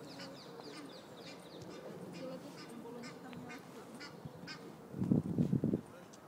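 Ducks and geese call at a lake in Regent's Park, London, with distant faint quacks giving way to a louder burst of close honking near the end.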